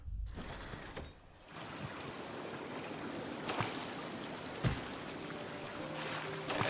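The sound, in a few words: waterfall in the video game Hollow Knight Silksong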